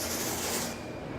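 Fine powder sprayed from a can and ignited by a small torch lighter, a loud close hissing whoosh of spray and flame that cuts off partway through.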